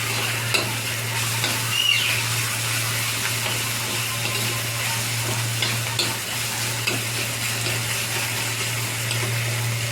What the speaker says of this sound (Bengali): ভাজা করে নেবো নেড়ে চেড়ে।